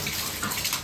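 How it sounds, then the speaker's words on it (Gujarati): Hot water being poured and mixed, a brief close splashing gush of running water, loud and continuous. "તો ગરમ પાણી મેળી દઉં"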